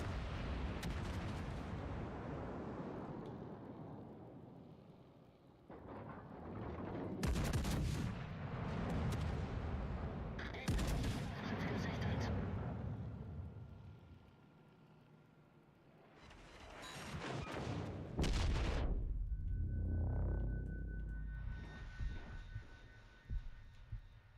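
Battleship main guns and secondary batteries fire in the naval video game World of Warships Legends at tier 8, heavy booming salvos and rumbling blasts repeating across a droning engine hum, loud and close.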